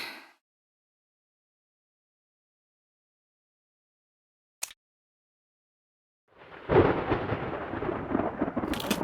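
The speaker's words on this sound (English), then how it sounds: "I can use the stormy night to restart my investigation." Thunder on a stormy night in a game, a faint tail at the start, a brief sharp crack midway, then a loud rolling rumble with rain-like hiss building over the last few seconds, no talk.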